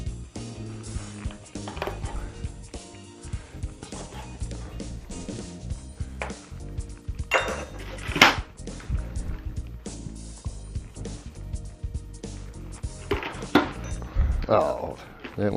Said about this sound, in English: let me get a knife real quick. I have to cut that in pieces.